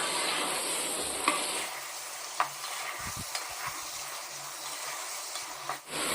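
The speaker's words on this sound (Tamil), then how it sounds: "குறைஞ்சது ஒரு 3 நிமிஷமாவது இந்த மாதிரி கைவிடாமல் கிளறிக்கிட்டே இருக்கணும்." Marinated chicken and masala powder being stirred nonstop in a hot pan for chicken sukka, a loud continuous sizzle with scraping spatula strokes and a few dull knocks against the pan; no one speaks.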